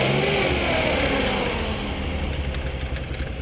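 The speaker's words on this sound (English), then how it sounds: "the engine runs nice and quiet. No smoke, no valve tick noises" A 1967 Austin Healey engine runs at a steady, smooth idle, a continuous loud mid-range drone close by, with no talking over it.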